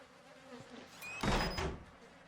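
Flies buzzing in the horror video game Outlast, a short close burst of droning insect wings over quiet ambience.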